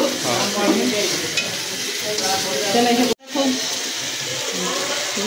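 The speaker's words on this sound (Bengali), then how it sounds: "মশলাটা খুব সুন্দরভাবে কষানো হয়ে গেছে, আমার মশলায় তেলটা ছেড়ে দিয়েছে" Spice paste sizzles steadily in hot oil with a continuous bright hiss and occasional stirring scrapes, close and loud throughout; a brief dropout cuts the sound for an instant midway before the frying resumes. Muffled voices talk faintly underneath.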